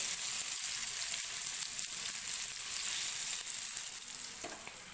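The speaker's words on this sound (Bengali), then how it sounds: "পনিরগুলোকে এবার আমি ভেজে নেব।" A steady, even hiss of paneer frying in oil, close and continuous, with faint bubbling and no talking.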